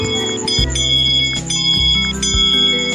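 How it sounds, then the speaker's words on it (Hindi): A bell sound effect from a comedy sound app on a phone, a bright ringing tone repeated in quick strikes with sustained metallic overtones, loud and close throughout. "बेल साउंड देखते हैं।"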